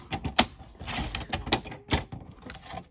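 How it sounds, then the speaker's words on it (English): A paper trimmer slices across the top of a handmade XOXO tag, giving a run of close, crisp snapping cuts and scrapes with a few sharper clicks, loud and dry with no talking. "I'm actually gonna cut the top. Let me cut the top first."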